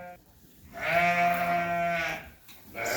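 Sheep and lambs bleat on a farm, one long, loud, wavering bleat up close, followed by another starting, over a faint background.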